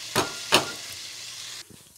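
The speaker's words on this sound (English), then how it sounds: "We'll wait for the butter to melt first before we fry the rice." Parboiled rice stirred in melted butter in a pan, giving a steady soft sizzle with two sharp scraping stirs near the start before the frying hiss drops away at the end.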